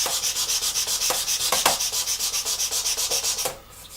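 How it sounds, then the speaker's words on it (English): Rapid back-and-forth hand sanding over a small raised spot on a surface, a close, bright rasping rhythm of even strokes that drops off suddenly near the end. "What we'll do is just sand this guy down here."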